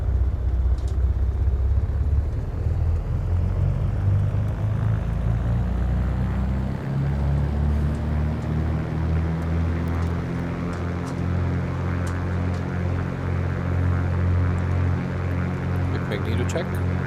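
A light aircraft engine in Microsoft Flight Simulator 2024 holds a run-up at 1700 RPM as a steady, loud, droning rumble that dips slightly at points. The drone is continuous and close throughout.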